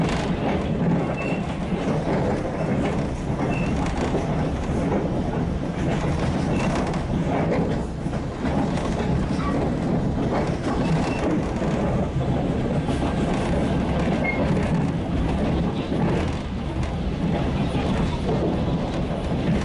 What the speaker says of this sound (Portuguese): Trem na Bolívia.